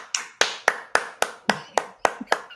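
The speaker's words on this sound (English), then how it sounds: "Don't clap him." About nine sharp, evenly spaced handclaps ring out close and alone, a steady rhythm with no talking over them.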